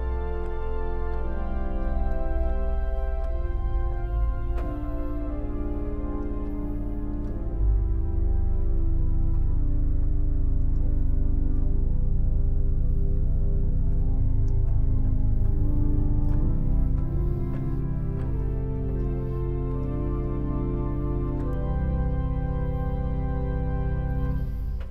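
Christ Lutheran's pipe organ in Baltimore, a stopped diapason joined by a 32-foot pedal stop, holds a full, warm sustained chord progression with deep bass underneath, steady and unbroken throughout.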